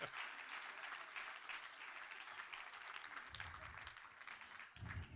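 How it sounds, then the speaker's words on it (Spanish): A church congregation applauds during a sermon, with dense, continuous clapping from many hands that stays steady and fairly distant for the whole stretch, with faint voices underneath. "dar un aplauso al Señor, gloria a Dios"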